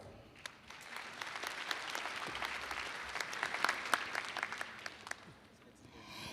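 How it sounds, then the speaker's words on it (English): Audience applause at an opening ceremony of a medical society meeting, a fairly distant, steady round of clapping with sharper individual claps standing out, tapering off at the end. "Please give them a big round of applause."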